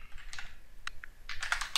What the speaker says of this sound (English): or I'll just type it in.